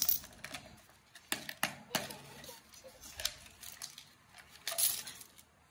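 Coins from a child's savings being handled and dropped, giving a run of bright metallic clinks and taps in irregular bursts, fairly close and moderately loud.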